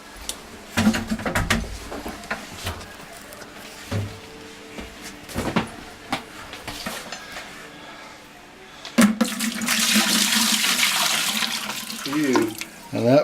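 After some clunks and handling noises, water pours and splashes out of a dirty water filter housing steadily for several seconds, loud and close, then tapers with a few knocks.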